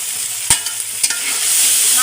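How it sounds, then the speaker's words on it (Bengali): Golsha fish sizzles in hot oil with cooked-down spices, a loud, close, steady frying hiss broken by a couple of sharp clicks from stirring. "মশলাগুলো কষানো হয়ে গেছে, উপর দিয়ে তেল ছেড়ে দিয়েছে। এখন মাছগুলো দিয়ে দেবো।"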